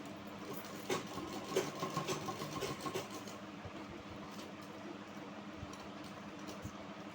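Sewing machine stitching along the side of a blouse, a steady mid-pitched mechanical hum with a denser burst of stitching in the first few seconds, then running more evenly at a moderate distance.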